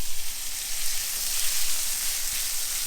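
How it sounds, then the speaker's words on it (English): Steady, bright sizzling and spitting of bacon grease frying deer liver in a pan, close and continuous, with small pops breaking through. "that bacon grease likes to splatter a little bit"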